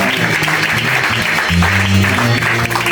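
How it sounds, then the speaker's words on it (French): Church congregation applauding in acclaim of Jesus, a dense, steady wash of clapping filling the room, with a few voices calling out and sustained tones rising underneath. "On va acclamer Jésus"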